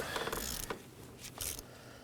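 A 14mm socket on a ratchet with an extension turns a spark plug on a 2018-2024 Chevrolet Equinox 1.5L, giving a few brief, faint ratcheting clicks in quick bursts close by.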